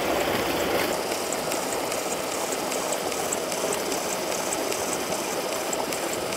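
Water gushing hard from the delivery pipe of a solar-powered tube well pump with 12 panels and a 10 HP motor, a loud, dense, continuous rushing roar up close that never lets up.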